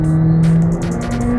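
A 2021 McLaren 765LT engine wails at high revs under hard acceleration, loud and close, with a steady climbing engine tone and a brief shift-like break partway through.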